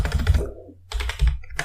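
Code being typed on a computer keyboard for a Python programming lesson, a quick close cluster of key clicks in two short bursts separated by a brief pause.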